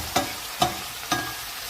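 Ingredients sizzle and brown in a frying pan before squid is added, with three evenly spaced stirring scrapes of a utensil over a steady close hiss.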